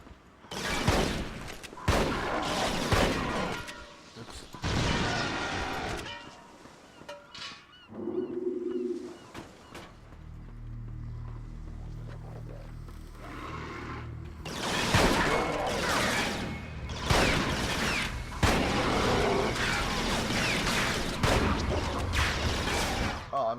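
Shotgun fire and combat in Resistance: Fall of Man, loud bursts of blasts and gunfire in several clusters with a quieter stretch in the middle carrying low honking tones.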